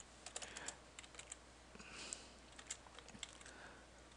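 Keys clatter on a computer keyboard while someone enters Java code, a quiet, steady run of close, light clicks with short pauses and no talking.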